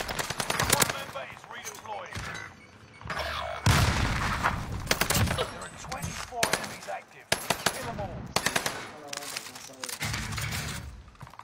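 Rapid bursts of automatic gunfire and explosions in an online shooter video game, loud and repeated in clusters with brief gaps, with players talking over the action.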